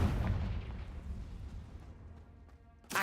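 Confringo fire spell from Hogwarts Legacy, fired once as a heavy booming blast that fades into a long rumbling decay, followed by a sharp new burst at the very end.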